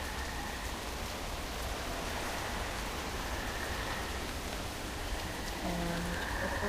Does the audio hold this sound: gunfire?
no